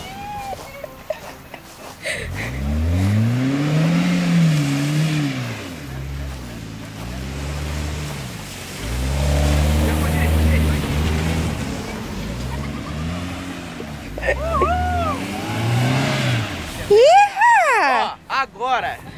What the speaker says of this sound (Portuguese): vocês vão ver como que é o drift de veloz